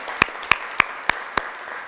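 Five separate, evenly spaced hand claps ring out on a quiz show set, crisp and fairly close, each standing alone over a faint background hum.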